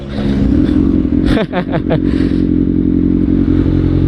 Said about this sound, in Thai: เดี๋ยวรอให้รถมันไปก่อนนะ มันเยอะเหลือเกินนี่